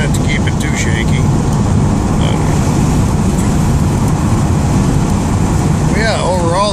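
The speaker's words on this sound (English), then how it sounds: "overall the car sounds nice. It's really, really smooth." A 1986 Camaro drives along hilly roads with a steady, loud, smooth engine and road roar that continues unbroken throughout, and a faint voice can be heard under it.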